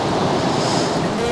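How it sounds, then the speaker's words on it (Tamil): Strong wind gusting at an outdoor cooking stove near Hosur falls during crab soup preparation, a steady broadband roar that stays loud and continuous throughout. "காற்று அதிகமாகறதுனால அடுப்பு எரியறதுக்கு கொஞ்சம் கஷ்டமாக இருக்குது."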